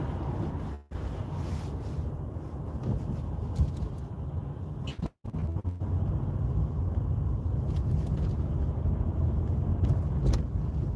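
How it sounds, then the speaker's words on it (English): Road traffic during the day on a drive from Salford city centre to Wigan in the UK, a steady low rumble of engines and tyres with wind noise inside the car and two short dropouts. "Huge amount of traffic at this time."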